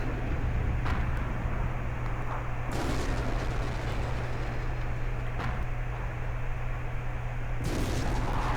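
Hummel self-propelled artillery firing in World of Tanks, several heavy booming shots spaced seconds apart over a constant loud engine rumble and hiss.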